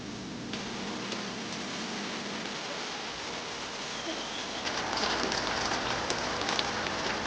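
Steady rain falls on a surface, a dense continuous patter with no voices, growing slightly louder and fuller near the end.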